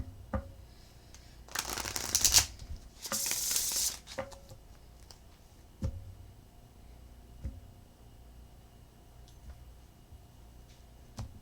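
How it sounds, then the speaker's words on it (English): Two quick bursts of riffling tarot cards being shuffled, close up, followed by scattered soft taps and clicks in a quiet room. "1 more shuffle."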